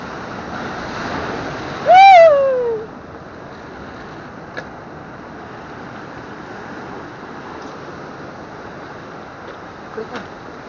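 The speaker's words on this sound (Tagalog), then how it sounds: "Ang lakas ng alon." Strong ocean waves surge and break against a storm-wrecked beach resort in steady continuous surf, with a loud whooshing swell near the start and wind noise; a voice briefly exclaims over the water.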